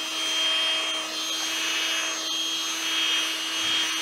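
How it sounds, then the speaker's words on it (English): A power drill runs steadily at a low, even speed with a constant whine, sanding with 800 grit on a 2011 Chevy Impala, its tone wavering slightly against the surface. "Now I'm using my drill on low here."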